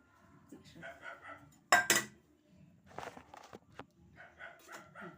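A spoon and steel bowl are handled in a home kitchen during dinner preparation, with a sharp metallic clatter near the middle followed by lighter clinks and taps, while voices talk intermittently around the sounds.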